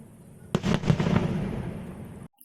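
Fireworks go off with a sharp bang followed by a rapid cluster of crackling pops that fade away over a couple of seconds.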